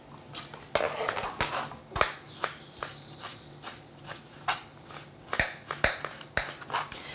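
A knife chops avocado coarsely on a cutting board, giving a string of sharp, close knocks at an uneven rhythm, with faint kitchen clatter between strokes.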